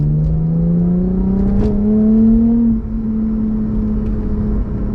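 A 2008 Lexus IS250 V6 engine pulls hard while driving, its loud, smooth tone rising steadily under acceleration, then easing into a steady cruising drone.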